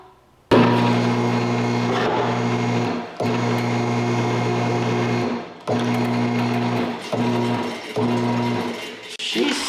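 A hydraulic car lift lowers in several stop-start stages, each one a loud, steady mechanical hum that cuts off abruptly before starting again, with a brief clunk near the end.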